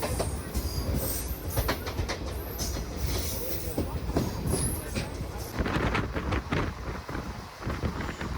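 The Pinakini Superfast Express (12711) rolls along between Vijayawada and Chennai with a loud, steady rumble, rhythmic clatter of wheels over rail joints and occasional squeals, heard from on board.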